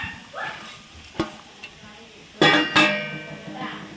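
Tender jackfruit and cooked horse gram being stirred in a pan, giving soft scraping and sizzling sounds with a couple of sharper clanks of the spoon against the pan midway.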